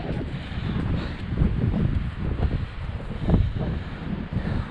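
Wind blowing outdoors near commercial communication towers, a steady rumbling gust buffeting the microphone with surges and lulls, close and fairly loud, no voices.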